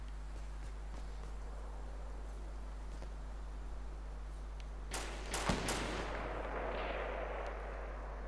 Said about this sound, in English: he got sniped